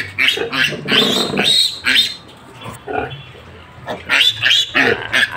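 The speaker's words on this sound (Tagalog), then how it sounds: "So, ganyan sila kagulo guys kapag bagong higa si Mama Pig." Newborn piglets squeal and grunt loudly in shrill bursts around a sow that has just lain down, close and chaotic with brief quieter gaps.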